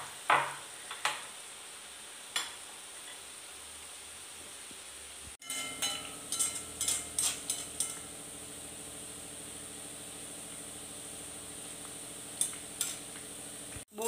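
Boondi batter poured through a sieve into hot oil for deep-frying, a steady close sizzle and hiss that swells into busier bubbling midway, with occasional light metallic clinks and no talk.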